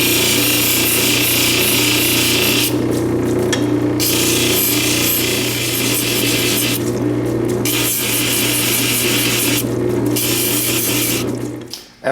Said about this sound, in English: So I just keep going around and round and round and round as I'm sanding it.